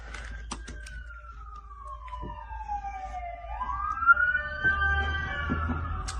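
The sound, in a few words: ambulance siren passing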